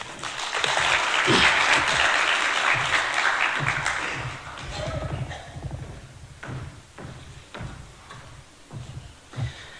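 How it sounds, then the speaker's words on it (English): Audience clapping at a civic space dialogue in Malawi, a loud full burst of applause that swells over the first few seconds, then thins into scattered individual claps and soft thumps. "Another round of applause for the Honorable Justice Charles Mkandawire"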